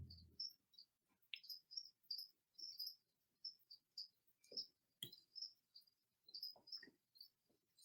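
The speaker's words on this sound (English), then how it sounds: "Sorry about the crickets." Crickets kept as gecko food chirp indoors in a spare bedroom, giving a steady series of short, high, faint pulses that go on without a break, along with a few soft knocks and rustles.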